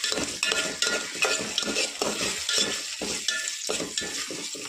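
Onion and green chillies sizzle in a pan, with a steady frying hiss broken by repeated scraping stirs and light clinks of a spoon as tomato pieces go in for an Andhra-style tomato rasam, no talking.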